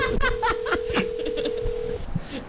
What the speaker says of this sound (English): This is a really long ringtone.